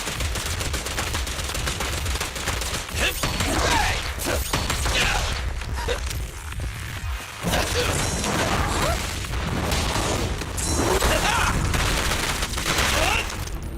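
Rapid, sustained gunfire from Zenless Zone Zero, with dense bursts of shots and mechanical clatter running loud through the whole stretch, broken only by a brief lull midway.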